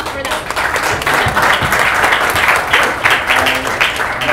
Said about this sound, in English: Okay, wait, I need to clap for that.